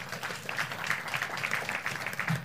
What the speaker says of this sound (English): Just hold on with them claps.